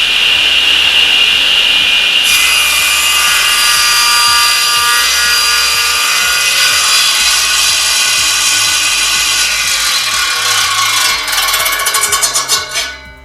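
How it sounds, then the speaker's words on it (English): A SIP CTS10D 10-inch floor-standing 230 volt circular saw with sliding carriage cuts steadily through wood, a loud continuous whining rasp that holds for about ten seconds before the blade spins down and trails off. "that will enable us to do the cuts still held with our sliding carriage"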